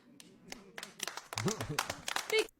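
A comedy show audience claps in scattered bursts, starting sparse and thickening into a brief patch of applause, with voices talking over it.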